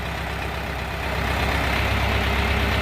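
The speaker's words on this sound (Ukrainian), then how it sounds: "Прекрасно їде, мотор нагрузки не відчуває." Orion 404 tractor fitted with a front loader, its engine running under load, a loud continuous close-up diesel drone with a steady low rumble that rises slightly after the first second.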